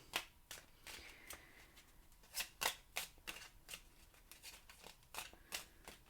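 Angel answer oracle cards are shuffled by hand in quick, soft riffling bursts, a close, quiet run of papery flicks and slaps with no talking.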